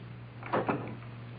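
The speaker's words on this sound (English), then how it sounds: "Close the door, Carl." A door closes in a radio drama: two quick, soft knocks of wood meeting the frame close together, faint over a low background hum, with no voices.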